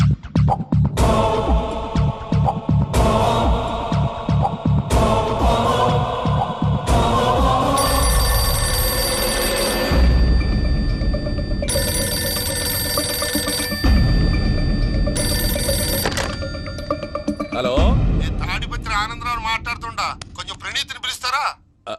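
A telephone rings repeatedly in loud electronic bursts, with music and voices around it before the ringing cuts off.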